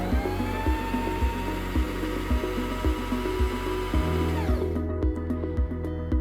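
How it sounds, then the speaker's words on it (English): Singer M2400 sewing machine winding thread onto a bobbin, a fast steady mechanical whir with rhythmic ticking that winds down and stops, followed by a few light clicks. "Stop for just a moment so you can trim the thread tail close to the bobbin, and then resume winding."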